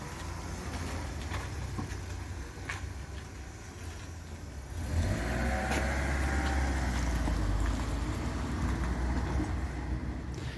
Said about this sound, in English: I'm just moving the Cavalier straight out the way.